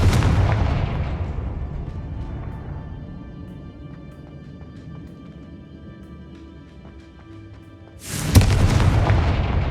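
A Confringo fire-blast spell from the Hogwarts Legacy video game booms loudly, its rumbling blast slowly fading over several seconds before a second sharp, bright explosion bursts in near the end.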